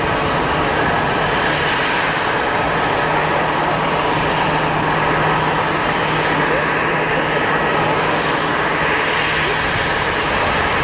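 Aircraft at Geneva Airport with its landing gear left out, producing a loud, continuous broadband engine roar that holds steady throughout, with faint talk underneath.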